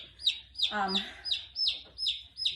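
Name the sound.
baby chick chirping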